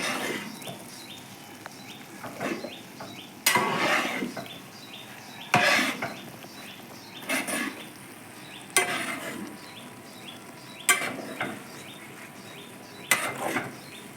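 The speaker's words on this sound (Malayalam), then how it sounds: "ഈ കാന്താരി ഇട്ട് വറുത്തതെല്ലാം കൂടി ഇത് പിന്നെ ഒന്ന് ഇളക്കിയാണ് കൂട്ടാം" Fried bird's eye chillies for pickle are stirred in a pan: a quiet series of rhythmic scraping and clinking strokes, about one every two seconds, over a faint sizzle with no talking.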